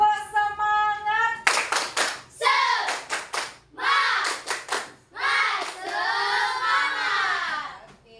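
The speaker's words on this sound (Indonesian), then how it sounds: "Tepuk semangat." Primary-school children in an Indonesian classroom performing a rhythmic spirit clap, sharp bursts of claps grouped in short patterns between loud chanted phrases from the class, close and lively, with children's voices throughout.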